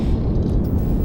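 Spaceship engines spooling up in the game Starfield, a loud, steady low rumble that holds evenly throughout with no voices.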